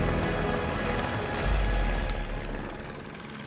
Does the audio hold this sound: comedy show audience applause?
no